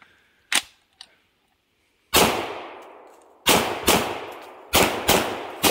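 Bursts of automatic gunfire in a first-person shooter with a MOD-9 weapon, a few sharp single pops then several loud rapid-fire volleys with ringing tails, close and alone with no talk.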